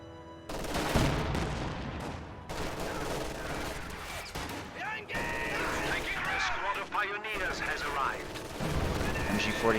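An MG-42 machine gun in the strategy game Company of Heroes fires sustained bursts amid dense battle noise, explosions and other gunfire, loud and continuous, with a commentator talking over it.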